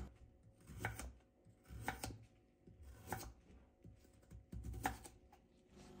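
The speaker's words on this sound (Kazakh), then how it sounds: "сабызымызды дөңгелек етіп турап аламыз" A knife slices carrots into rounds on a cutting board, giving five soft, evenly spaced chopping thuds with low background hum, quiet and close.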